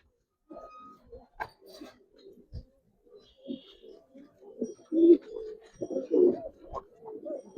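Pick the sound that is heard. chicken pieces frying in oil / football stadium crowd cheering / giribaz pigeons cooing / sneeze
giribaz pigeons cooing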